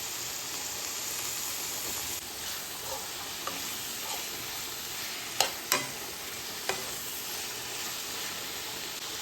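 Coriander and mint leaves sauté in a pan with a soft, even hiss throughout, punctuated by a few sharp clicks from a spoon or spatula, close up with no voices.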